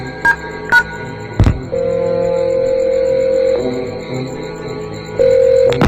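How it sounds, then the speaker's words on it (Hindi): A phone sequence: a few short key beeps, then long steady tones like a ringback signal, with brief gaps between them. "अपने मोबाइल से किसी को फोन करने लग जाता है।"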